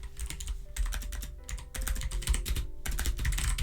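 Rapid typing on a computer keyboard, dense clattering keystrokes in quick irregular bursts, close and prominent with faint tonal background sounds underneath and no voices.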